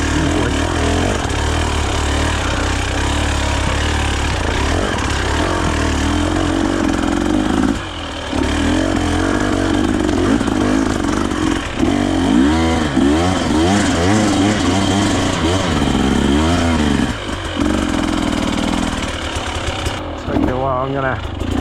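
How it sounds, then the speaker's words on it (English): A 2024 KTM 300 EXC TBI two-stroke dirt bike lugs off-road at low revs, a loud close burbling engine with wavering pitch, brief dips and rising pulls, while a rider talks over it at times. "engine characteristic I'm most impressed with on the TBI is the bottom end torque"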